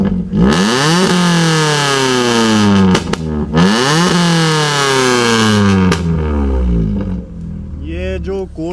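Close, loud revving from a modified Maruti Suzuki Ignis with a tuned exhaust, repeated rising and falling sweeps punctuated by sharp pops and bangs, ending in a burst of crackles.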